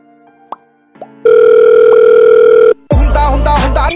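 A phone call being placed: a steady electronic dial or ring tone holds for about a second and a half, then cuts to a loud, dense burst of sound, with no talking.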